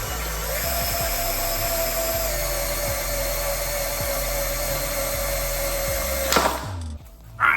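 A power drill bores a hole through a plastic car brake light housing in one steady, high whining run of about six seconds, close up. It cuts off with a clatter and a brief knock at the end.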